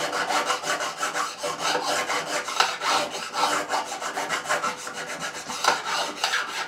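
Guitar frets being filed level on a fretboard, a steady back-and-forth rasping of metal file strokes in a quick regular rhythm, close and continuous with no talking.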